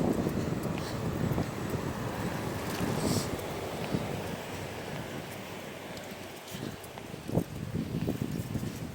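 Wind buffets the microphone in a constant low rumble and gusts, with faint background bumps and no talking.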